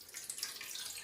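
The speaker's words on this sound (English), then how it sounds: "you can just take off the top and fill it with some water" Water runs steadily from a tap into the water tank of a De'Longhi Dolce Gusto Stelia coffee machine, a soft continuous hiss that stays level throughout, with no voices.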